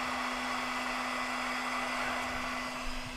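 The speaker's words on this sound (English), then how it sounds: "you can hit it with your air hose." An air hose blows steadily on a heated aftermarket truck bumper part for a 2010 Toyota Tundra, giving a loud, continuous close-up rush of air with a constant hum underneath and no pauses.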